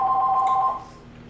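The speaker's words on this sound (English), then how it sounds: "The phone's ringing." A telephone rings with a steady electronic two-tone ring in a home kitchen while ribs are being barbecued, sounding clearly for most of the moment, then cutting off and leaving quiet room tone.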